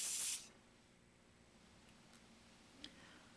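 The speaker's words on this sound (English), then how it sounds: "I'm also using compressed air to blow away some of the particles" A short, strong blast of compressed air blowing particles off a battery-damaged acoustic guitar preamp circuit board, cutting off quickly and leaving a quiet room with a couple of small ticks.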